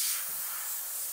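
An airbrush sprays paint downward near the top of a masked surface, a steady close hiss of compressed air throughout.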